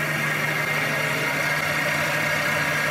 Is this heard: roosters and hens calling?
no